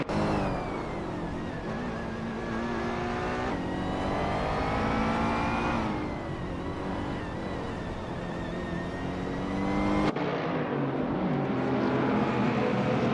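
Several racing car engines roar and rev continuously in a video game race, among them a 1999 Honda Civic SI, with pitch sweeping up and down through gear changes and the sound cutting sharply partway through.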